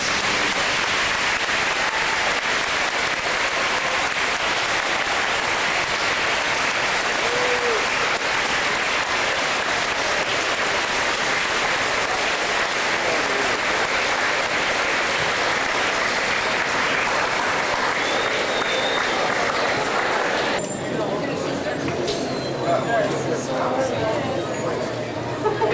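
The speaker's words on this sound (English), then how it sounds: "Let's give Chris one more round of applause" A school assembly audience claps loudly and continuously for a long stretch. The dense, sustained applause thins near the end, when some chatter can be heard.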